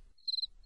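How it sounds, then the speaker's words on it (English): Crickets chirping in a short burst of rapid, high pulses, faint and isolated against a quiet background. "First, the crickets in 6/8"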